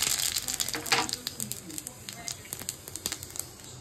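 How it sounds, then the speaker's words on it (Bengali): Radhuni and cumin seeds crackling in hot oil as a tempering, a close, fairly faint scatter of quick pops and spits that thin out over a few seconds, with a voice speaking briefly. "তাই রাঁধুনি জিরে ফোড়ন দিয়ে দিলাম।"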